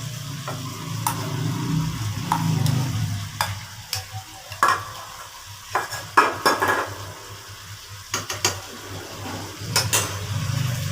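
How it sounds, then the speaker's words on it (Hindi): A spoon scrapes and clacks against a pot as chicken karahi with tomato paste fries over medium heat, irregular metallic strikes over a steady low sizzle. "इसमें हम चम्मच चलाएंगे, दरमियानी आंच पे इसको हम अच्छे से भून लेंगे।"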